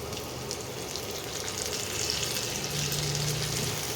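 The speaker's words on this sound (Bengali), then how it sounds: "এই টমেটোটাকেও একটু ভাজতে হবে," Chopped tomato and onions fry in a pan with a steady, close sizzle and faint stirring, alone and continuous throughout.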